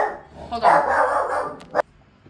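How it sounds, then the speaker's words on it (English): A pet dog barks indoors, a few loud, close barks running together into a short burst and ending in a sharp final yelp, followed by quiet. "it was my dog. She barks like crazy sometimes"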